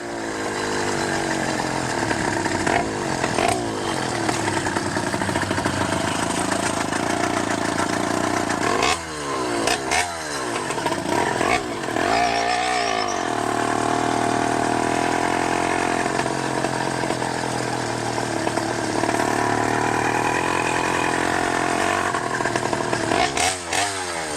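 A 100cc motorized bicycle with a 49mm iron sleeve two-stroke engine runs with a loud, buzzing rasp during the ride. Around the middle its pitch sweeps up and down through several rev changes, then it settles back into a steady drone.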